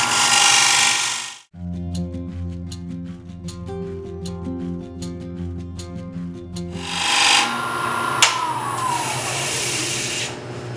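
A wooden platter spinning on a lathe as it is turned, giving a steady tonal hum with regular ticking and rubbing, framed by louder bursts of broadband cutting noise at the start and end.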